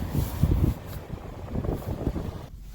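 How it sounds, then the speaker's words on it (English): Gusty wind buffets the microphone outdoors in low, rumbling bursts, rising and falling over a few seconds with no voices. "It's getting a little bit windy"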